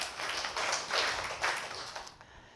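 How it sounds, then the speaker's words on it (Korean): A church congregation claps together during a Korean sermon, a dense burst of hand claps that swells in a few waves over about two seconds and then fades out. "박수하겠습니다."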